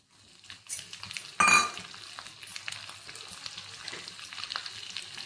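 Cumin seeds, chopped ginger and green chili frying in a hot pan, a burst of sizzling as the ingredients drop in, then a steady crackle with light utensil clinks.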